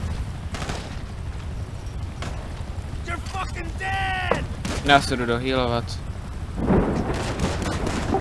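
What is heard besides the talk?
rockets and gunfire in video game GTA V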